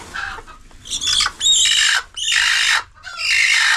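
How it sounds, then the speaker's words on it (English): A broody hen lets out several harsh, agitated squawks in close succession, loud and near, with brief pauses between the bursts. "Now that is a broody hen."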